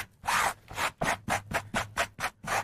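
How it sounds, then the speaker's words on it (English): Sandpaper scrubs a textile costume piece to weather it, giving eight rhythmic, fairly even rasping strokes, each about a quarter second long, close and alone with no talk. "for sandpaper"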